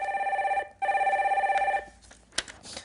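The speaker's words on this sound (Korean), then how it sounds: "두 번째 전화 빨리 받아볼게요" A telephone rings for an incoming call on a radio phone-in show, two steady electronic trilling bursts separated by a brief gap, followed by faint handling clicks.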